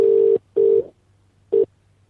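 Telephone tones before a Vodafone voicemail message: three loud steady beeps, two longer and one short, separated by brief silences.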